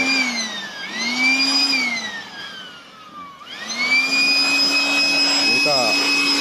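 An air blower drying water out of a car engine bay gives a loud steady whine that dips and falls in pitch midway, then rises again and holds, close and alone.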